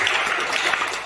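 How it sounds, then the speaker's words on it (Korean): A church congregation breaking into applause, a loud, dense, continuous wash of clapping hands filling the moment with no speech on top. "박수 한번 치시오."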